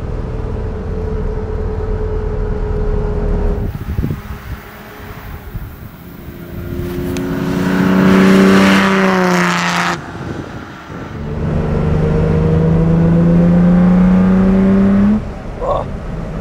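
A 1965 Lamborghini 350 GT with an aluminium body and V12 engine drives on a country road. Its loud, steady engine drone swells into a strong rising rev, drops off briefly, then climbs again.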